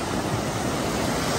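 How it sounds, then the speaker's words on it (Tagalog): Strong ocean waves roll in at Nagtabon beach, a steady, loud broadband roar of surf with wind buffeting the microphone throughout. "Ang lakas ng alon!"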